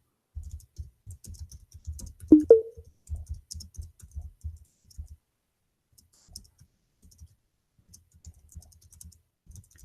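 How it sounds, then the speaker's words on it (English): Fingers type on a computer keyboard in quick, irregular bursts of close, crisp clicks, with a short pause midway before the tapping resumes, no voices. "Is the text, guys, is clear for you what I'm typing?"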